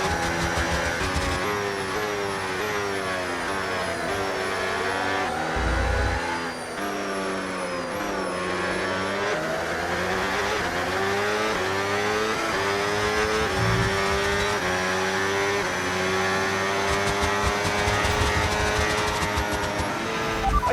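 An F1 car in the F1 video game racing at Silverstone, engine screaming at high revs with overtake mode active, rising through upshifts in sweeping pitch climbs, loud and continuous for the whole stretch.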